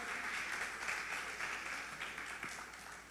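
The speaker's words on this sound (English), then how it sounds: "Just give yourself a round of applause once again." Audience applause at a junior calypso preliminary competition, a steady quiet wash of clapping that holds for the whole stretch without voices on top.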